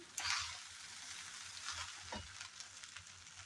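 Egg fried rice with vegetables is stirred in a hot pan, a steady close sizzle with scattered soft scrapes and clinks of the spatula, and no talking.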